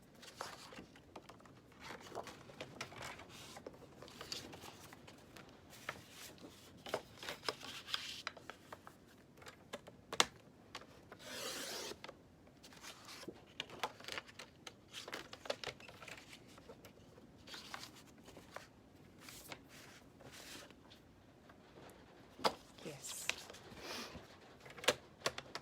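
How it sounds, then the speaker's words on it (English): Twelve-by-twelve cardstock sheets are cut in half at six inches, heard as irregular scraping, rubbing and sharp slicing strokes at close range with quiet pauses between. "take our 12 by 12, and I'm just going to cut these in half at 6 inches."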